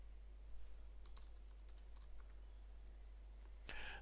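Light typing on a computer keyboard during a Joomla 3.2 tutorial: a few scattered, quiet key clicks, then a sharper keystroke near the end, over a steady low hum.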